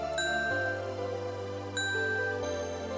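A high, pitched-up bell tone for a video game in development, with bright ringing partials. It strikes twice and then a third time, each strike quick and close over a steady low hum.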